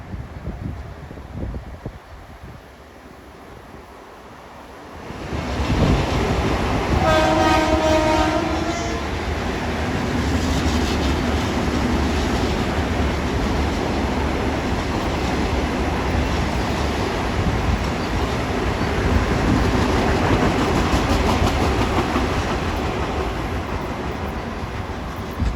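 Quiet at first, then a Long Island Rail Road M9 train arrives at Kew Gardens, its horn sounding briefly before a long, loud, steady rumble of cars passing close.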